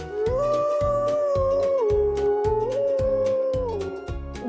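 A drawn-out wolf howl rises and falls in long sustained tones over a rhythmic children's music track.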